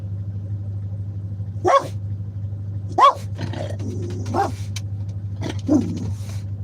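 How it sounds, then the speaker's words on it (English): A dog barks four times at spaced intervals over a steady low engine hum, the barks sharp and fairly close. "What are you barking at me for"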